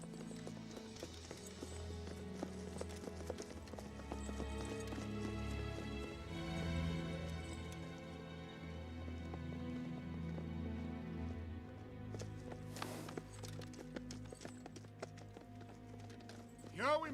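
Horses' hooves clip-clop steadily at a walking pace on the way into a war-era battle setting, with the footfalls layered under music and low background sound.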